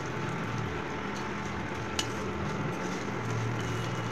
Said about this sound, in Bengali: এইবার এই ঘিটার মধ্যেই ভার্মিসালি বা সিমুইটা আমি লাগিয়ে ভেজে নেবো।